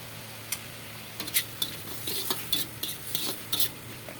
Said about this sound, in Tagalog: halu-haluin lamang natin itong mga mare para sa ganun po ay hindi po masunog yung ating niluluto